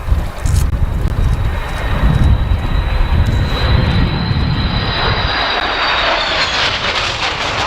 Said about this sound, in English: Here we go now for the fly pass.